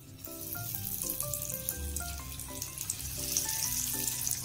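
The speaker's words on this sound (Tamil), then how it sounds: "இப்போ இதை ஒவ்வொன்றா சேர்த்து ஃப்ரை பண்ணிடலாம்" Coated paneer pieces frying in hot oil give a soft, steady sizzle and crackle at low level, while melodic music plays over it throughout.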